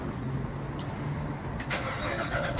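A 2017 Corvette Grand Sport engine starts up and settles into a deep, loud, steady rumble heard close by, with a slight rise in revs near the end.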